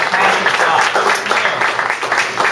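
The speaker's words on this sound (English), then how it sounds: "I think everyone should give a round of applause to these community presenters." Audience at a community charrette applauding presenters, a dense, fairly loud patter of clapping that stays steady, with some voices blended in beneath it.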